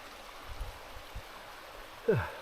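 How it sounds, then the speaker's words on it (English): A small river beside a canoe portage trail in Temagami flows with a faint, steady babble in the background, with soft footstep-like thumps and a brief voice near the end. "This portage runs right along this beautiful little river."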